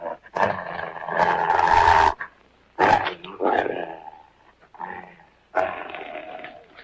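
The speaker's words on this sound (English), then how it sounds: "That's a dog." A dog mistaken for a wolf growls and snarls in several rough bursts separated by short pauses. It sounds close and fairly loud, with no talk over it.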